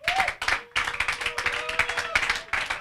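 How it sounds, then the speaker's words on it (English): An audience at an annual staff conference breaks into steady clapping after a talk. The applause comes in dense bursts with a few short gaps, and voices call out over it. "You can make that applause better."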